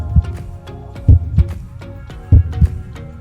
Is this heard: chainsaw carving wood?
no